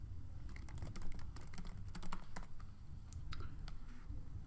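Keys are struck on a computer keyboard as a username and password are typed, quick clustered taps close to the microphone with short pauses between bursts.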